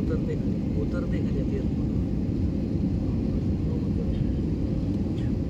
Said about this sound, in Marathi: लँडिंग म्हणजे एअरपोर्टच्या खूप जवळ आणि विमान आता उतरणार आहे